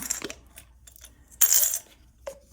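Coins drop into a zippered cash envelope wallet in a few separate bursts of bright metallic clinks, close and clear, with quiet pauses between them.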